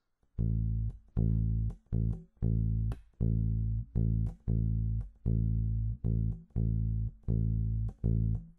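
A low bass guitar repeats a steady dotted-quarter-note rhythm of sustained notes with short gaps, played alone and clearly.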